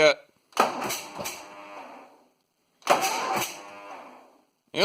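Cub Cadet 1882 garden tractor engine cranking in two separate bursts, a rough churning starter drone that sputters without catching, with silence between attempts.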